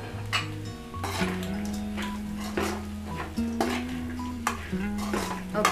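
Raw banana and moong dal fry being stirred in a pan with coriander powder and chilli powder, giving repeated scraping clinks of a spoon against the pan over a soft sizzle, with a tonal hum running underneath.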